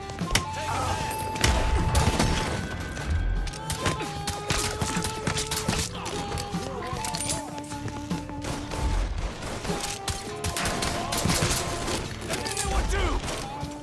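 Gunfire in the Mafia 3 video game on Xbox One X, dense continuous shooting with overlapping shots, impacts and mechanical clatter, loud and close throughout.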